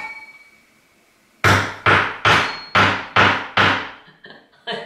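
Six sharp, loud metallic hammer blows in a steady rhythm as horns are knocked into a bodger, each strike ringing briefly, followed by a few softer taps.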